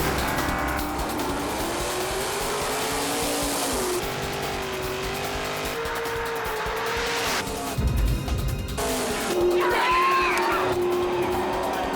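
Race cars at a drag strip roaring and revving, with tire squeal and engine pitch rising through the run, loud and continuous with a brief lull midway.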